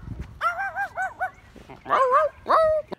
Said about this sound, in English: There are two small dogs that want to kill me.